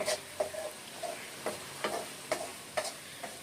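A boy stirs rice into tomato gojju, a spoon scraping the pot in light, regular strokes about every half second, quiet and close with no talking.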